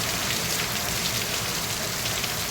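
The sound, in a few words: rain dripping on corrugated iron roof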